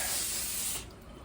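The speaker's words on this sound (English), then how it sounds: "you'll need to get some butter spray, which I like to use when cooking most of the time" Butter cooking spray released from a can onto tin foil, one close sharp hiss lasting under a second before it cuts off, no speech.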